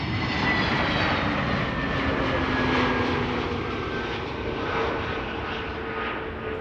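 Airbus A321neo airliner arriving at Amsterdam Schiphol, a steady broad engine roar with faint whining tones, moderately near and continuous, slowly easing off toward the end.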